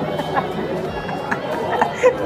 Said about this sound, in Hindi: आपको मैं अभी भंडारे में भीड़ दिखाऊंगा गाइस, कितनी अभी बहुत ज़्यादा भीड़ है गाइस